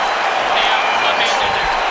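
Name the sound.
arena crowd cheering at UFC fight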